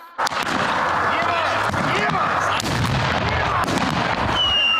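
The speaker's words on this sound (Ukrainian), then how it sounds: "звуки пострілів і вибухів" A rapid, continuous crackle of simulated gunfire with booming blasts mixed in, loud and dense, from a staged battlefield training exercise with smoke grenades and burning tyres.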